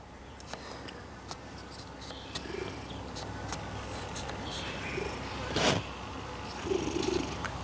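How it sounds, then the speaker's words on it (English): A cat purrs softly and steadily, with a few faint clicks and a brief louder snuffle near the end. "Just about here, he's purring"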